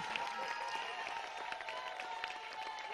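Congregation applauding steadily inside a church during an anniversary celebration, a dense continuous wash of clapping with crowd murmur throughout.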